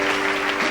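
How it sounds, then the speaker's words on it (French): A congregation at a French-language worship service bursts into loud, dense clapping and cheering. The noise is continuous and close, with a sustained musical tone running beneath it. "Acclame très fort le Dieu vivant."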